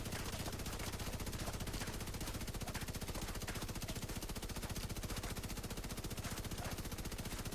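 Rapid automatic gunfire from The Division 2 rattles on without pause, dense and evenly paced bursts filling the whole stretch at a steady loud level.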